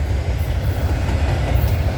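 A CN Rail intermodal freight train out of Brampton Intermodal Terminal rolls past close by, a loud, continuous rumble with steady wheel clatter and no voices.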